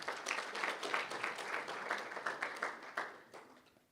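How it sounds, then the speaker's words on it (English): An audience at a conference applauds a presenter, a steady patter of many clapping hands heard from a distance at moderate volume, tapering off toward the end. "Can we give him another round of applause"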